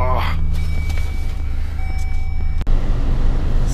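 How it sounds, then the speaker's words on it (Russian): A truck starts on a snowy winter day: a brief rising whine gives way to a loud, close, low engine rumble that keeps running, with a few short higher tones and a sharp knock near the end. "Сейчас попробуем завести тручка."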